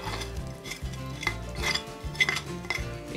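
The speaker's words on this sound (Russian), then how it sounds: "И немного перемешаю." Soup with clyotski dumplings and frozen cilantro, dill and green onion being stirred in a pot, with spoon clinks and scrapes against the metal repeating in an uneven rhythm over a soft background hiss, close up and moderately quiet.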